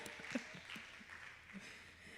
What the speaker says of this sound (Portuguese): Aplauda, gente, eles foram corajosos.